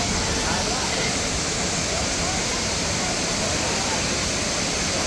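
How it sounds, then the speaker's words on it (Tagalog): Mantayupan Falls in Cebu roaring with a dense, unbroken rush of falling water, loud and steady throughout, with no other sounds standing out. "Mantayupan Falls"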